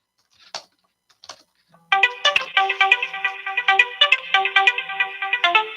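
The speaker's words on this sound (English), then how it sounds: "That's the game show music." Bright, bouncy game show jingle played on a sports fan call-in radio stream, a quick electronic melody of rapid repeating notes that kicks in loudly after a couple of faint blips and continues steadily.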